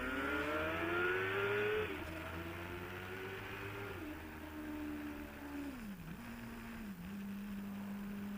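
A car engine revs close by, its exhaust droning in a steady tone that rises and dips several times before settling into a smooth idle-like hum.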